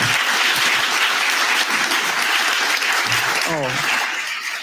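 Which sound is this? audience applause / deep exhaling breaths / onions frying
audience applause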